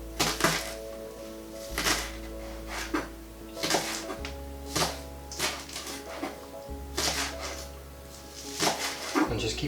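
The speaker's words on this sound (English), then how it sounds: "I'm just going to cut it into discs." A knife slices an onion into discs on a board, a series of distinct chopping thunks at irregular intervals of one to two seconds, fairly close and alone.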